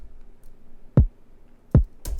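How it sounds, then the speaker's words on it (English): A small trap kick drum with no overdrive, struck twice about 0.75 seconds apart, each hit a short, punchy low thump with a quick click. A third hit lands just as the clip ends, and nothing plays between the hits. "And without overdrive, sounds like this."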